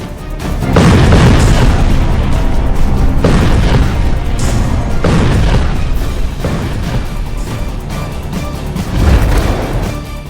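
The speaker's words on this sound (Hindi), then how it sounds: "तुर्की का ये super bunker buster bomb 7 metre के कंक्रीट को भेद कर आगे बढ़ता है और फिर धमाका करता है।" A Turkish super bunker buster bomb bursts with a loud, deep boom that rolls on for seconds, followed by further heavy blasts and a lingering low rumble.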